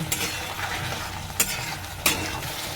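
Cauliflower and potato curry stirred in a pan, with a steady low sizzle and soft scraping throughout, and two sharper scrapes of a spoon against the pan partway through.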